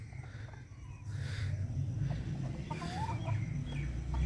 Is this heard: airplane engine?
no